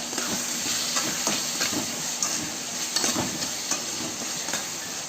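Onions and tomatoes with salt sizzle and hiss steadily in a pan for vadacurry, with repeated close scraping and stirring strokes of a spoon over the continuous frying noise.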